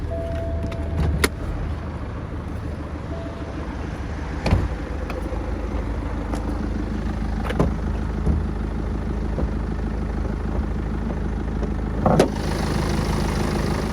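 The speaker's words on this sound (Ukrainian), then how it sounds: "Двигун працює рівненько" A 2016 BMW 520 engine idles steadily up close, a smooth continuous hum with a few sharp clicks and taps over it.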